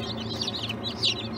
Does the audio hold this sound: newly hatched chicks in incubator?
yes